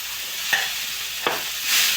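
A spoon stirs and mashes a cooked toor dal mixture in a pot, giving two soft, brief scrapes over a faint sizzling hiss.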